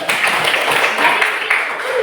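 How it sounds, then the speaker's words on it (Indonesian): Classroom applause for a student named Rizky, a dense, steady patter of clapping hands filling the short moment at close range. "Tepuk tangan untuk Rizky dulu"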